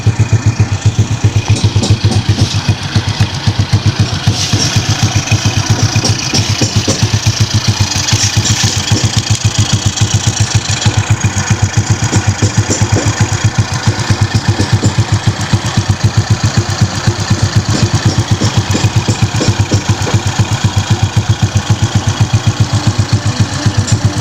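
A motorcycle with an open-pipe exhaust idles steadily and loudly up close, its rough, throbbing pulses continuing unbroken for the whole stretch with no talk over it.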